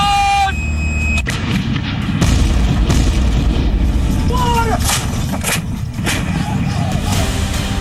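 Heavy booming blasts of Indian Army artillery cannon fire ring out against a loud, rumbling background in Kashmir's Keran sector, with distant shouted Hindi firing commands and a brief whistling tone.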